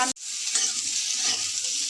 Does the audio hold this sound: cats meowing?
no